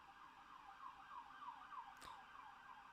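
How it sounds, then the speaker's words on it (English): A siren wails steadily through the clip with a rising and falling sweep, moderately loud and somewhat distant, broken by one sharp click near the end. "Here comes the siren."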